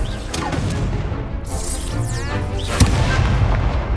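A fiery Confringo spell blast in the Hogwarts Legacy video game goes off as a loud booming burst amid steady combat noise, with another sharp hit near the end.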